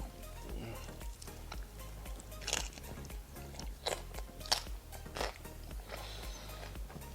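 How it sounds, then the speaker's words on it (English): Close, quiet chewing of a bite of smoked porchetta with skin, fat and pork belly, giving irregular moist crunches and bites over several seconds with no talking. "I know you can probably hear me chewing this."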